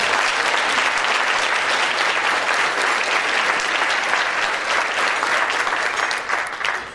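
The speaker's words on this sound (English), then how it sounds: "So everyone give Ken a special round of applause." Sustained, dense applause from a seated audience at a Republican political dinner in Riverside, loud and continuous for several seconds before thinning out at the very end, with no talking over it.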